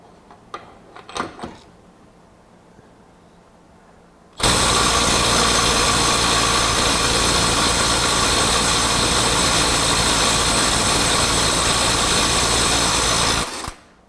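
A Milwaukee 2565 M12 FUEL right angle impact wrench hammers on a stuck nut in one loud continuous burst of about nine seconds, preceded by a few light clicks and quiet.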